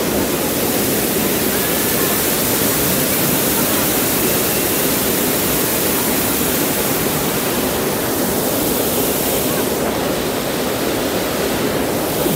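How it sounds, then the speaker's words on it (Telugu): Kanchenjunga Falls in West Sikkim, a waterfall of over 120 feet, roars in a steady, loud, broadband wash of crashing water that fills the whole scene without pause. "కాంచనగంగ వాటర్ఫాల్"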